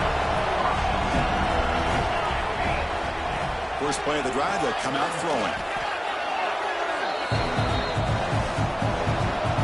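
Stadium crowd noise in the College Football 26 video game, a continuous loud roar beneath a play-by-play commentator's voice.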